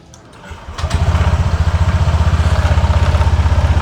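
Honda ADV 160 scooter engine cranking and catching, a short starter whir followed by a loud, steady pulsing idle close by.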